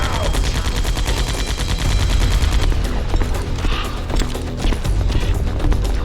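Gunfire in the video game Metal Gear Solid: Twin Snakes, a dense, loud burst of rapid shots and clattering mechanical impacts that continues without a break.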